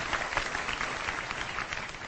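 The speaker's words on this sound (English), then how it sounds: "Give a round of applause, guys." Audience applause at a live talk, a steady wash of many hands clapping throughout, moderately loud and slightly distant.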